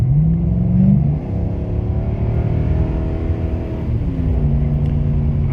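Nissan Titan pickup fitted with an Airaid MXP cold air intake, engine revving up with rising harmonic tones near the start, then holding a steady, fairly loud idle-to-mid rumble with a second rise toward the end.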